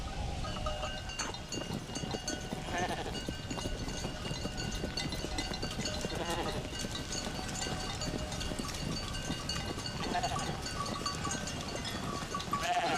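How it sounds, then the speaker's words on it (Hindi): A flock of sheep grazing in an open pastoral setting gives off scattered, overlapping bleats, mostly faint and distant, over a constant rustle of hooves and movement. "भेड़े हैं सारी।"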